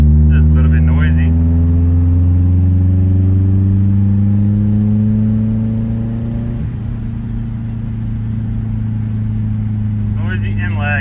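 A turbocharged BMW E36 with a Honda K24 engine swap and repaired exhaust pulls hard, its engine note climbing steadily in pitch, then dropping and droning on loudly from inside the car, with someone talking briefly over it.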